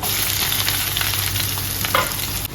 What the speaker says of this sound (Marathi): आणि हे कढीपत्ता कांदा टाकून घेते बारीक चिरलेला